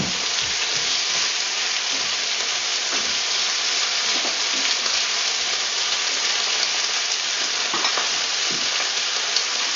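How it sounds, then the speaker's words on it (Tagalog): Kare kare with banana blossom sizzles and hisses steadily in a pan while being stirred, a dense close frying crackle with occasional soft scrapes and clinks, no talking. "Give it a stir."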